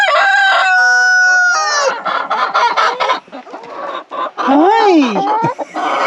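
A rooster crows loudly and up close inside a coop among newly introduced chickens, its long cock-a-doodle-doo ringing out over a busy background of clucking and chatter from the flock.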